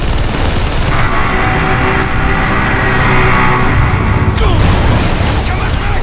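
Dense gunfire and heavy explosions while shooting at tanks in Bulletstorm, a loud continuous barrage with booming impacts and a sharp blast near the end.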